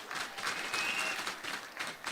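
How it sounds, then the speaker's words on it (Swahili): An audience applauds the President at a Kenyan political gathering, a dense, continuous wash of clapping from many hands that stays loud and even throughout. "simpigie Mheshimiwa Rais makofi"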